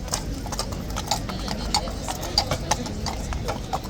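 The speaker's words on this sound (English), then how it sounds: "we've got the sunglasses horse coming out" Horse hooves clip-clopping at Horse Guards in London, a clear, regular walking rhythm of sharp knocks nearby, with voices and crowd noise in the background.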